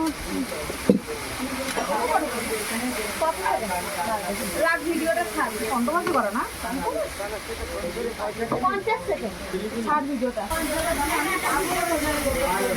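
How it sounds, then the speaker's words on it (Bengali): Mutton spice paste of dried chilli paste, salt and turmeric is stirred and fried in a pan, giving a steady close hiss and sizzle throughout, with clinks and scraping over it and someone talking on top. "মটনের যে মশলা হচ্ছে কষানো হচ্ছে।"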